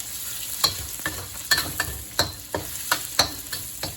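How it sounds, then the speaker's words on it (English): Shiitake mushrooms stir-frying with chicken wings in a pan, steady sizzling broken by about a dozen sharp scraping strokes of a utensil in a loose, uneven rhythm. "Now it goes in the shiitake mushroom"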